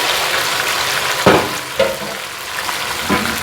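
Ground onion, about three medium onions, frying in a pan for fish curry, a loud continuous sizzle with a few sharper bursts as it is stirred, close up with no talk.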